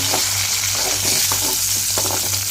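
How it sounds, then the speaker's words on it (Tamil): Mint leaves with a small piece of coconut sauté in a pan, a dense continuous hiss of frying with faint stirring strokes underneath, close and loud. "ஒரு ஒரு நிமிஷத்துக்கு நல்லா வதக்கிக்கலாம்"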